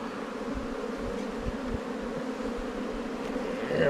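Honey bees at a hive drone in a steady, dense buzz throughout, close and fairly loud, with no voices over it.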